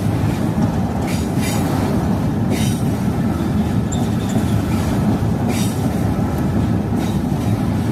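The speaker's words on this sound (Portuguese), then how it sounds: "É trem demais." A long freight train rumbles past on the North-South Railway, loud and close. Heavy continuous wheel roar mixes with rhythmic clicks over the rail joints and bursts of metallic squealing, with no voices.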